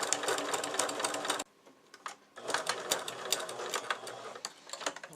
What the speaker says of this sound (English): I'm going to go ahead and stitch right along the edge of that window trim.